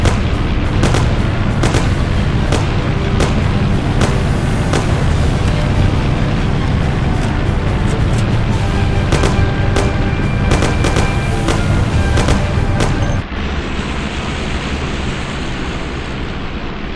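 Rapid bursts of gunfire crack repeatedly in the Mafia video game, with loud engine rumble from a moving car underneath, the shots dense and close before the noise drops to a steadier drone near the end.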